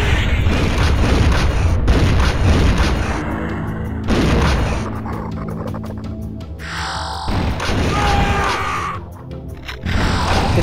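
An auto shotgun fires in a first-person shooter video game: several loud, booming blasts at irregular intervals, each with a short echoing tail.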